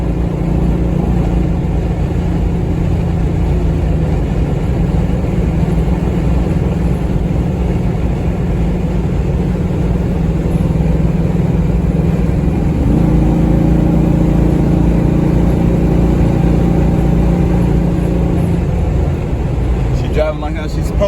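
A car with an LS engine swap is being driven, its engine droning loudly and steadily throughout, with a rise in revs and pitch partway through as it accelerates, close and continuous.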